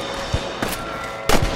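Red Dead Redemption gameplay on PS3 gives three sharp gunshot cracks: one faint early, a second soon after, and a louder, heavier report near the end over a low game ambience.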